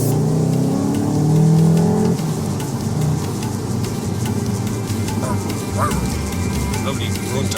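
A Volkswagen Golf GTI engine revs with a low throaty rise for about two seconds, then gives way to steady road and wind noise, fairly loud and close.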